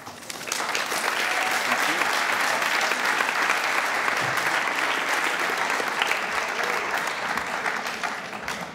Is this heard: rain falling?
no